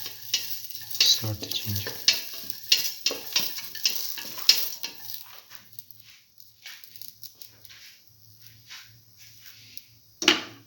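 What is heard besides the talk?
sauteing ginger in a pan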